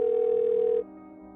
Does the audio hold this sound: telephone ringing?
yes